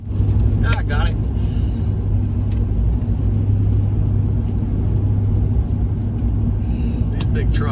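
Steady road rumble from inside a car cruising on a highway through the Rockies at about 55 miles an hour, with a few sharp ticks of rocks hitting the windshield and people talking over the engine drone.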